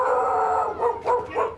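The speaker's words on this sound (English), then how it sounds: "Dogs." Dogs howling and yelping in a drawn-out, wavering cry followed by a few short barking bursts, moderately close and heard alone without speech.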